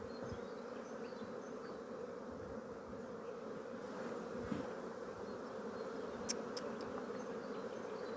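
Honeybees and drone bees buzz at a stacked beehive during an inspection, a faint, steady, even hum that continues throughout with no voices.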